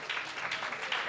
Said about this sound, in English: A massive round of applause to that panel.